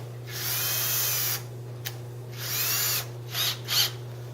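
A power drill fitted with a pencil whirs in two sustained runs, then gives a few short bursts of the trigger, drilling into a board. The drilling is close and steady against a low electrical hum.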